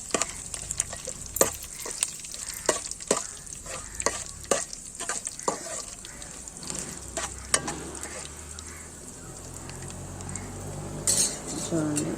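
Crushed garlic cloves frying in oil in a pan while cooking drumstick-leaf dal curry, a steady sizzle broken by frequent sharp clinks of a spoon stirring against the pan, with a brief louder scrape near the end.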